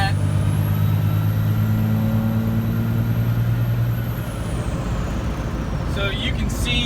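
Cummins 24-valve diesel in a second-generation truck runs at a steady, loud idle-to-rev drone with strong low rumble, easing down in pitch after about four seconds, under a brief stretch of talk.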